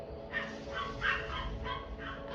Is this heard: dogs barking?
yes